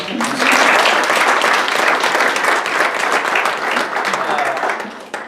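Steady, dense applause from a large audience at a softball awards banquet fills the space, loud and sustained before tapering off at the end.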